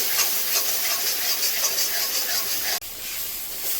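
Turmeric and Kashmiri chili powder fry in hot spice paste in a pan for a chickpea ghugni, a steady close hiss and sizzle with a brief break before it continues.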